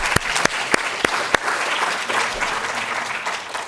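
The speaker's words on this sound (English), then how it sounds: "A round of applause." Sustained applause from an audience at a museum event, dense clapping throughout, with a few sharp louder individual claps standing out near the start.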